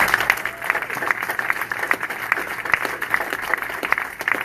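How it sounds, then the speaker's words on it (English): An audience at an annual award presentation claps in sustained, dense applause, many hands at once, loud and steady throughout with a few louder individual claps standing out. "so let's give them a round of applause"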